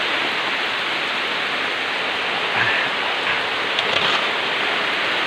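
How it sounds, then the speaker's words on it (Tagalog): Heavy rain pours down steadily outdoors, a dense, even hiss that fills the whole stretch with no gaps, with a couple of faint knocks partway through. "Sobrang lakas po ng ulan dito"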